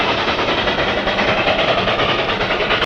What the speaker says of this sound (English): that footage of a real locomotive chugging through the hills